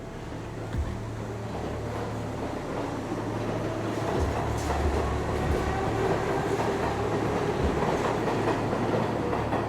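A metro train pulling away and rumbling along the tracks, steady low roar with rhythmic clatter, gradually growing slightly louder, no voices.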